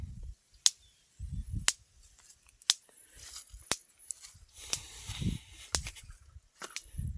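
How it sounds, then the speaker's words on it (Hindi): An electric fence energizer in a farm field ticks out sharp, evenly spaced clicks about once a second, with faint rustling and low noises between the pulses. "ये देखो, हमारे झटके की आवाज़ आप"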